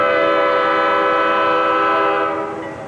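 An eastbound D&H freight train with a mix of Susquehanna locomotives sounds a long, loud, sustained chord horn close by, holding steady before fading slightly at the end.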